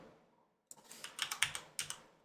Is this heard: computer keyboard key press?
yes